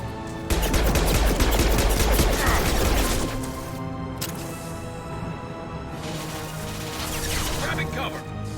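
A grenade blast and rapid gunfire in a video game battle, a loud burst of automatic shots and an explosion up front, then quieter scattered fire and rumbling, with voices calling out.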